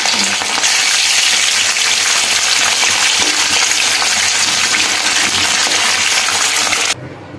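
Roe-filled Padma hilsa fish frying two at a time in a pan, giving a loud, steady, crackling sizzle that runs without a break and cuts off sharply just before the end.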